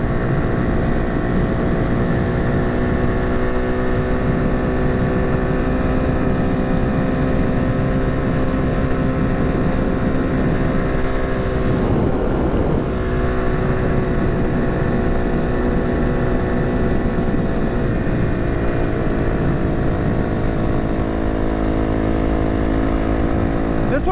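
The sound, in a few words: quad ATV engine while riding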